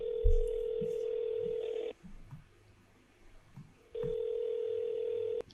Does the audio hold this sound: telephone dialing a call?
yes